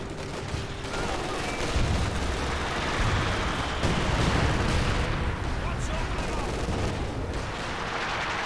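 Artillery barrage with smoke rounds raining down in a 4v4 Company of Heroes 2 battle, a dense continuous roar of overlapping gunfire and explosions with a voice talking over it throughout.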